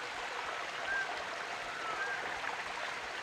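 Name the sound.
waterfall stream in Bilat village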